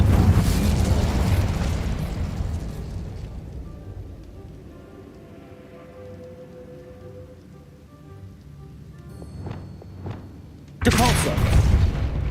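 A fire spell cast in Hogwarts Legacy rushes out as a loud, roaring burst that fades over a few seconds, then a second sharp blast erupts near the end.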